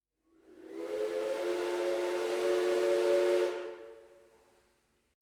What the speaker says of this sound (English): Tomitake cutely blows his whistle as he runs along the tracks.